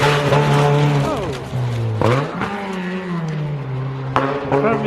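Front-wheel-drive Vauxhall Astra rally car climbing a snowy uphill hairpin at close range, its engine droning loudly and dipping and rising in pitch through gear changes and wheelspin, with brief voices nearby.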